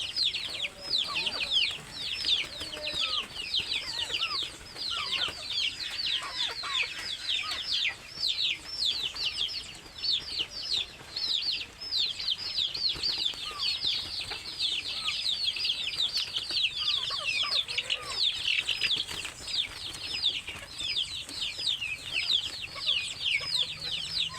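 Medium-sized chickens kept on the bottom level of a three-tier farm cage cluck in a steady, overlapping chorus that runs without a break, fairly close and busy throughout.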